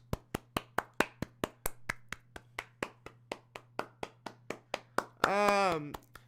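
A lone pair of hands claps for a rapper, about twenty sharp, evenly spaced claps close to the mic. A voice briefly cuts in near the end.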